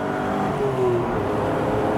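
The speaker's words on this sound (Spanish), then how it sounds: "Oh, la aceleración es sensacional." A Renault Alpine A310 V6 sports car's engine revs up under acceleration, a loud, continuous rising growl heard from inside the car.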